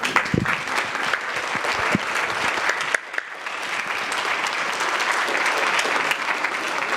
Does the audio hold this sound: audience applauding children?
yes